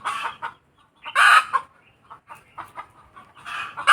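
Chickens cluck in short bursts and a rooster crows loudly at a house where a concrete front yard is being poured, the calls coming close and intermittent with brief quiet gaps.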